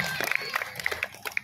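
An audience at a comedic Balinese performance applauds the musicians with a quick burst of scattered claps and crowd noise, and voices are mixed in with it.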